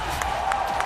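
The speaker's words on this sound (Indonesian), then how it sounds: "boleh minta tepuk tangannya" A crowd applauds and cheers during an M4 esports knockout match at the Senayan indoor tennis arena, a dense, steady roar of clapping that fills the whole moment with no break.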